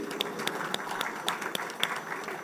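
Audience applause at an international trade seminar, a steady patter of many hands clapping in a hall, moderately loud and continuous with no talk over it.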